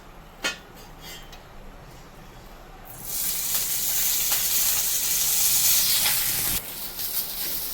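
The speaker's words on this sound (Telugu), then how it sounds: "మనకు పల్లీలు ఫ్రై అయిన తర్వాత మిర్చి కూడా మనం ఫ్రై చేస్తున్నాం." Green chillies frying in oil after peanuts for a roadside-style chutney, a sudden loud steady hiss and sizzle starting a few seconds in and continuing, following a quieter stretch with a few small knocks.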